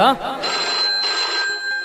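A telephone rings during a call made to ask a father something, a short electronic ringing tone with steady pitched pulses, fairly loud and close, set against a little voice activity.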